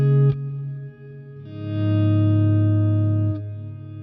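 Sustained guitar notes through a Fractal Axe FX ambient reverb ringing out with a long, washy tail, a short plucked note first, then a swelling held chord that lingers before fading.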